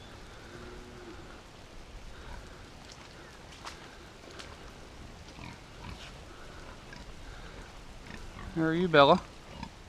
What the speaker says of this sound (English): Let's go check on the pigs.